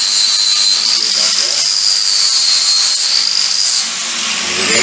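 Power tool grinding or sanding powder coat off a metal part ahead of welding, a steady high-pitched whine with broadband hiss running loud and close throughout, dropping slightly near the end.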